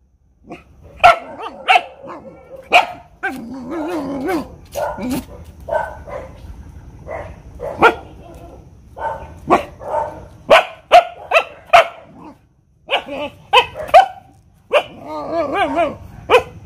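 Dogs bark repeatedly in sharp, loud bursts at irregular intervals near the listener, mixed with a person talking and some whimpering yelps between barks.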